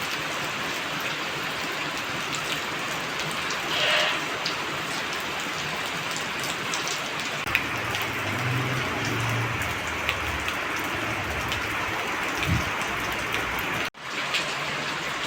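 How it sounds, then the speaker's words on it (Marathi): Steady rain patters densely and continuously on surfaces nearby, with a few faint low thumps and no talking. "बघा पाऊस येत आहे"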